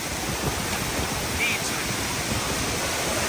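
Dynjandifoss waterfall in Iceland roars as a constant broadband rush of falling water, loud and close, with someone speaking briefly over it.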